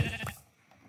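Sheep bleating inside a video game, a short bleat starting right away and fading out in under a second, with a faint trailing sound near the end.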